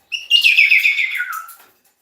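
A pet bird gives a single bright, close chirping call that slides downward in pitch, lasting just over a second and heard alone.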